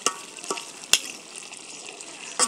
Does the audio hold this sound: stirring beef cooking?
yes